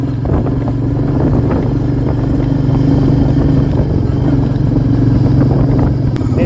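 A Royal Enfield Meteor 350 motorcycle climbs a narrow, winding uphill road in third gear, its single-cylinder engine giving a steady, loud, low thumping drone with wind rumble throughout.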